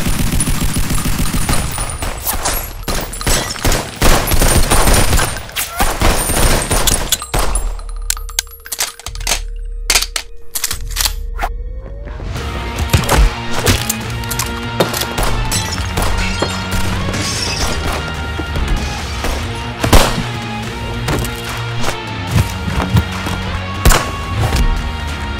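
Dense, loud gunfire and metallic clatter from an action short film, rapid bursts and crashes layered through most of the clip, with a short quieter stretch before the firing picks up again.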